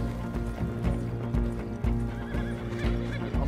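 A horse in Red Dead Redemption 2 clip-clops with steady hoofbeats close by, whinnying and neighing over the galloping rhythm.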